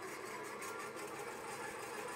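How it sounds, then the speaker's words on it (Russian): Electric motor mounted on ball bearings, drawing about 30 amps, spinning up after its flywheel is nudged: a steady, even whir with a dense buzzing hum, fairly loud and close, constant throughout with no voices. "И мотор начал разгоняться."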